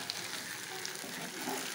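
Thinly sliced potatoes frying in a pan with spices, garlic and ginger paste, a soft continuous crackling sizzle at low volume with a few faint pops.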